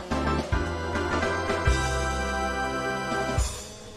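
Mario Kart 64's fanfare for finishing second, third or fourth place plays as a loud, full synthesized brass-and-drum flourish, with three punchy bass hits spaced across a steady, triumphant melody and no voices.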